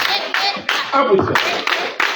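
Congregation clapping in a church service, a scattered burst of hand claps that comes in uneven waves over about two seconds, with voices mixed in.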